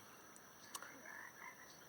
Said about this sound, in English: did you hear that frog?